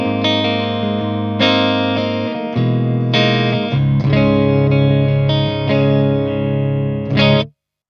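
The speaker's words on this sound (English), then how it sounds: "So right now I'm on the Rockerverb and it sounds something like this." Electric guitar through the clean channel of an Orange Rockerverb tube amp, playing a series of ringing chords and picked notes with sustain, close and fairly loud, cutting off at the end.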